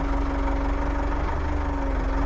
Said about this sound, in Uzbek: Ovozlari yaxshi, dvigatel ovozlari, sostoyaniyasi hammasi yaxshi.